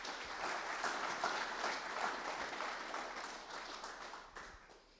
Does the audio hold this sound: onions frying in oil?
no